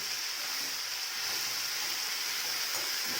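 Chopped vegetables sizzle steadily in a hot pan, a continuous bright frying hiss with soft stirring scrapes, close and fairly quiet, with no one talking.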